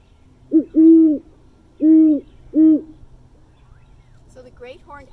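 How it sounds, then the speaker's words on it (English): Great horned owl hoots played back from a phone app: a short lead note then three deep, evenly spaced hoots, clear and close, followed by a brief burst of other sound at the end. "the first one I'm going to play is the great horned owl hoot"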